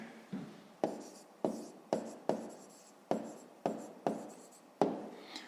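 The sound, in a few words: writing down a math answer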